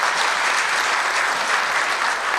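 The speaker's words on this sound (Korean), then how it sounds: "우리 CEO분들을 위해서 큰 박수" Steady, dense applause from an audience at a morning G Valley CEO forum on small-business R&D support, filling the whole stretch at an even level with no voices over it.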